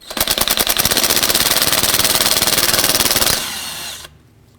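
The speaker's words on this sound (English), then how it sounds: "So take a T27 and remove the 3 bolts that hold this on." A power driver whirs and rattles rapidly while backing out thread-locked T27 bolts from the 4WD vacuum hub actuator on a 2008–2010 Ford F-250, loud and close, then winds down and stops near the end.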